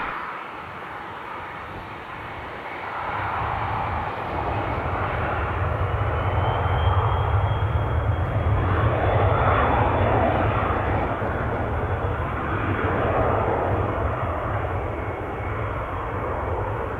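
A fixed-wing airplane takes off from runway 8 right at Spirit of St. Louis Airport, its engine roar swelling from a steady hum into a loud, sustained drone that holds throughout, with faint radio chatter underneath.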